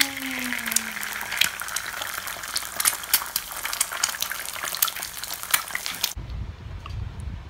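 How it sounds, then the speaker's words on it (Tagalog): Eggs fry in a pan with a steady crackling sizzle and scattered pops that cut off abruptly near the end, leaving low room rumble. "Luto tayo itlog."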